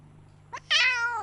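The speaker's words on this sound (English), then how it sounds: "If I squeeze him a little, sometimes he meows" A pet cat gives a short chirp, then a clear, close meow when gently squeezed, loud against a quiet room with a low hum.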